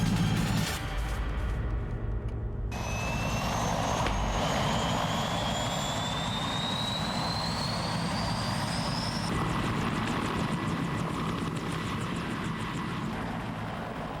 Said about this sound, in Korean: 대량의 무기를 장착한 공격 헬기.